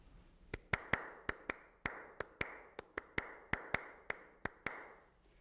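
Sharp hand claps in Steve Reich's Clapping Music, a steady stream of crisp, close, dry claps in an interlocking repeating rhythm, with no voices over them.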